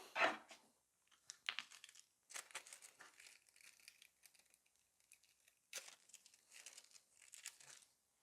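Gold transfer foil is pressed and peeled on nails for nail art, giving faint, close crinkling and tearing rustles in short separate bursts with quiet gaps between them.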